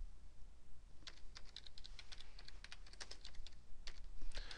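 Someone types on a computer keyboard while entering data into an Excel spreadsheet. Quick, irregular clicks come in short bursts, close and clear over a faint background hum.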